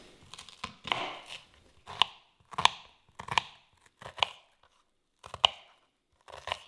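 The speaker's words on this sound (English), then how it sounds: "Now we're going to chop our capsicum." Sharp knife chops of capsicum on a board, a series of crisp, irregularly spaced cuts close by with brief pauses between them, no talking.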